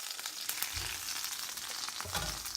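Clarified butter sizzles steadily in a pan while ricotta pancakes cook, a continuous bright frying hiss with a few soft low bumps and no voices.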